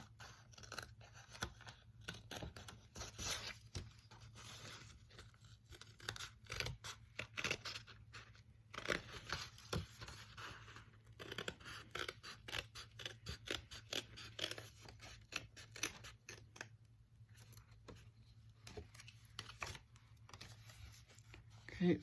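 Scissors snip through folded paper to cut out heart shapes for a Valentine card, a long run of quiet, close, irregular clips and rustles.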